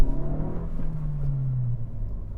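A 2025 Honda Civic Si with a manual gearbox letting its revs hang, the engine hum sustained and slowly dropping after the throttle lifts, moderately near and without talk.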